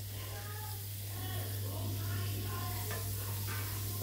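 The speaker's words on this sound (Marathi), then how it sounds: "छान असे टोमॅटो देखील फ्राय करून घ्यायचे आपल्याला।" Tomatoes frying with spices in a pan give a steady, close sizzle with occasional stirring scrapes, running continuously over a constant low electrical hum.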